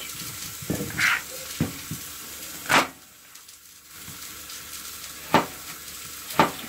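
Fat rendering in a frying pan with a steady low sizzle, broken by a few sharp pops and spatters while cooking fried potatoes.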